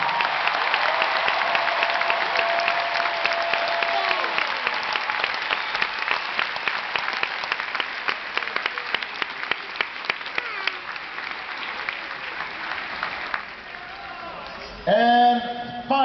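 A rally crowd applauds Caroline Kennedy in a sustained, dense burst of clapping that fades toward the end, where a voice briefly cuts in.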